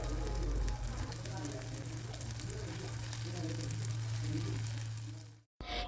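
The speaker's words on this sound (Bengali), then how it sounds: "প্রথমে ডিমটাকে এইভাবে একটু এক সাইডে রেখে ভেজে নিতে হবে" Egg frying in a pan with spices, sizzling steadily at close range with a low hum underneath, before cutting off abruptly near the end.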